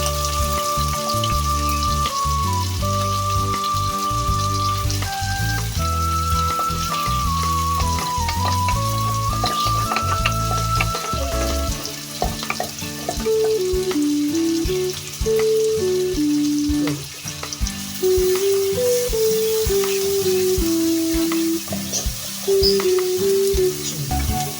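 Chicken and peas fry in oil and masala in a pan with a continuous crackling sizzle and occasional stirring. Melodic background music plays throughout, and no one speaks.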